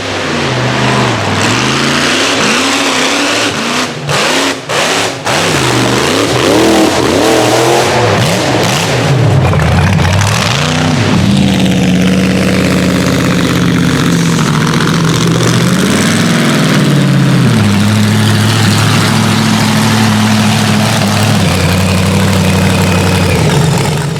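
A 1600 HP Gold Rush rock bouncer off-road buggy engine, loud and close, revving hard in sharp bursts before settling into a deep, rumbling idle, with no talking.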